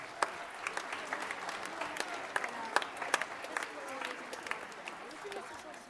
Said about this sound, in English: So I want a round of applause for those gentlemen.